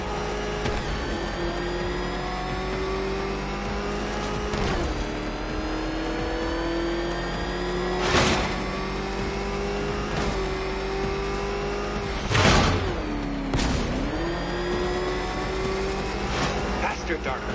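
Engine in Batman Arkham Knight, called a ramshackle motor, revving continuously with shifting pitch, loud and steady over the whole stretch, with sharp bursts and tire squeals breaking through; game voices talk over it.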